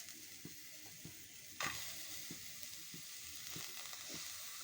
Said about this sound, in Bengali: এখন পেঁয়াজ কুচি দিয়ে দিচ্ছি।